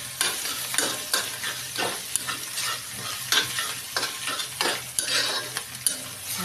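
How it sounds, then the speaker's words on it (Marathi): Egg bhurji is stirred and fried in a pan, a spoon scraping and clinking in a steady rhythm over a continuous close sizzle. "आपली छान बुर्जी मस्त हलवून झाली"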